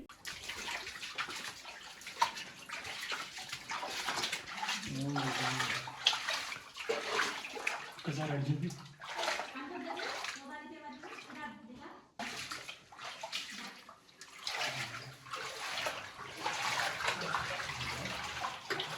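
Water splashing and trickling nearby inside a cave, with voices talking over it in the enclosed, echoing space.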